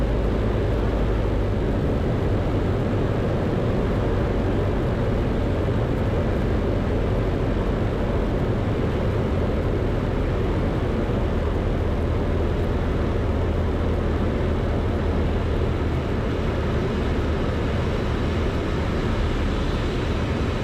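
Zenith light aircraft lining up on the runway, heard from inside with its engine droning loud and unbroken, a dense, even roar with no pauses.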